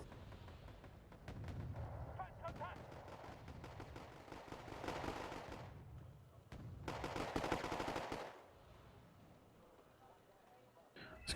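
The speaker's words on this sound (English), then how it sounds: "As you can see, constant artillery bombardment." Constant artillery bombardment in the Wargame AirLand Battle video game: dense rumbling barrages and rapid bursts of gunfire rolling in waves, loud and sustained, dropping to a quieter background near the end.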